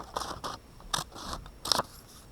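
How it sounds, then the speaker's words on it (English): A knife slicing through a donut, heard as a few short, soft crunchy cuts in an uneven rhythm, close by and quiet. "I'm going to take the other donut and cut it in half"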